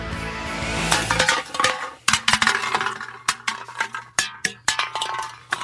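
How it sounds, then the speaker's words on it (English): A tin can kicked along a paved road, clattering and clinking metallically in a string of sharp, irregular bounces and scrapes that fade into scattered taps. "That's the sound of the can getting kicked down the road."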